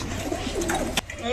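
Domestic pigeon in a village coop, cooing low and soft in a steady murmur, mixed with faint rustling and background noise at close range.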